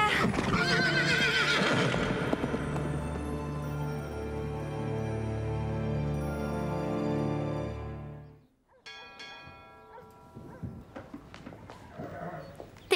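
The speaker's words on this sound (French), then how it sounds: "J'ai jamais vu un cheval aussi horrible!" A horse gives a loud, long whinny up close, followed by quieter scattered hoof clatter and rustling after the call fades.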